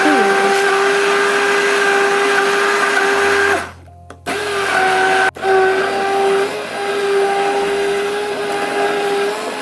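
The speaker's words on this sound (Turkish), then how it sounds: "El blender ile pürüzsüz bir kıvam alana kadar çırpıyoruz." A handheld immersion blender whirs steadily as it purées milk and banana, a close, loud, continuous motor drone that cuts out briefly midway and then resumes.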